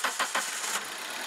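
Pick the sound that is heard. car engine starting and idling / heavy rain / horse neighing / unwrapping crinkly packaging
car engine starting and idling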